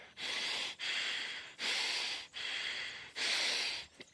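Heavy, forceful breaths in a steady rhythm, five long hissing exhalations close up, each separated by a short pause, imitating labored nasal breathing during an MMA class.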